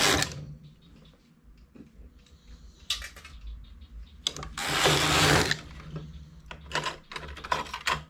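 A knitting machine carriage sweeps across the needle bed for two rows, making two raspy, clattering passes with a louder, longer rush in the middle and light mechanical ticks between them.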